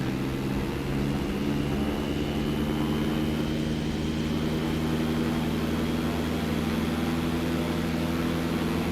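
An aircraft engine in a flight simulator game holds a steady, loud droning hum during a throttle-up run-up, unchanging and alone throughout.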